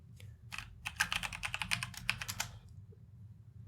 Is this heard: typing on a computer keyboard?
yes